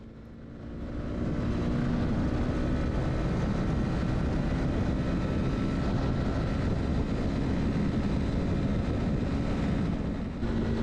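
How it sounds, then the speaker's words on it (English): Honda CB300R naked motorcycle accelerating hard at full throttle in sixth gear from about 100 km/h, a loud steady engine drone mixed with heavy wind rush, sustained and close throughout. "Now will come full acceleration from 100 kilometers per hour, 60 miles per hour in the 6th gear."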